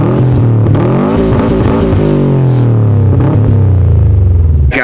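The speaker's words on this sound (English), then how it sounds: "So we're gonna rev it right now, see what it sounds like now" Jeep engine with an aftermarket cat-back exhaust revved up and held, a loud, deep throaty roar that climbs and falls in pitch, then cuts off abruptly at the end.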